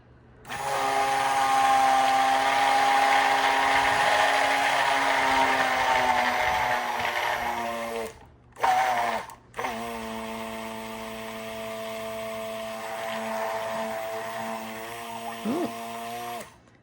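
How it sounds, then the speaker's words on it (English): A stick blender whirs steadily through cold process soap batter, a loud motor drone with a high whine that cuts out briefly twice before running on, close by with no talk. "Gently burp your stick blender."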